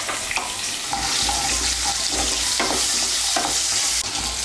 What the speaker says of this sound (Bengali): আলুগুলোকে আমি লাল করে ভেজে নেব